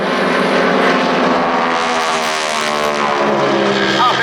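Propeller engines of the Breitling Wingwalkers display biplanes drone loudly and steadily at an air show, pitching into a dive and loop with a rising, shifting tone.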